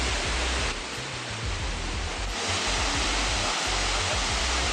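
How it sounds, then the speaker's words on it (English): Steady, dense roar of a waterfall in the Appalachian Mountains, a broad continuous wash of falling water heard close and loud with no pauses or voices. "we see the first waterfall"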